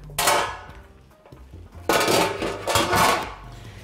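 A metal frying pan clangs and rings, with three loud, bright strikes whose resonance trails off, close up and heard alone.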